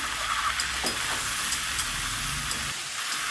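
Ivy gourd and potatoes seasoned with salt and turmeric frying in a pan, giving a steady, close sizzle with light scraping and stirring clicks throughout, no voices.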